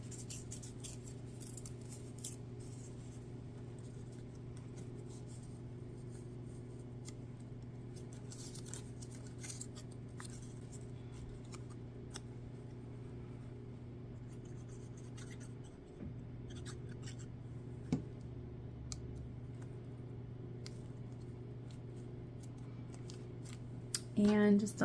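Small scissors snipping scrap paper and a bit of lace while crafting a junk journal, with soft, sparse cuts and light rustling over a steady low hum, close and quiet.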